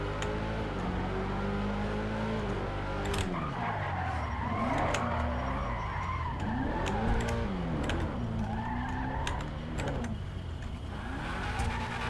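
A hot rod car in GTA Online, heard from inside the cabin: a continuous engine rumble swells and falls with repeated revs, with tire skids and squeals throughout and no talk.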